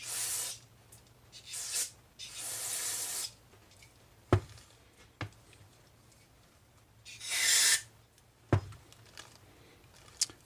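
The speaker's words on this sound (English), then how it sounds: "blow some carb cleaner in there" Short hissing bursts of carb cleaner sprayed into a Predator 2500 generator carburetor, close and sharp, several spurts separated by pauses and a few clanks of metal parts.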